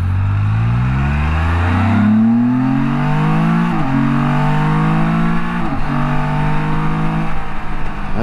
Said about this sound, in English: For a big heavy bike, that's quick.